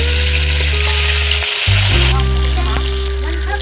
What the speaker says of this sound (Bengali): উল্টে এভাবে ভালোভাবে ভেজে নেব